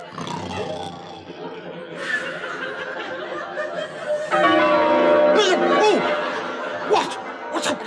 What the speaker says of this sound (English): Henry, what's that dreadful noise? The bells, Bishop.